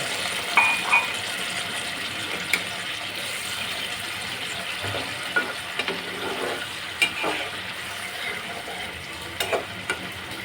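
Koi fish sizzles in a hot pan as a little water is added, giving a steady bright frying hiss with light scattered clicks and scrapes from stirring, close and fairly constant.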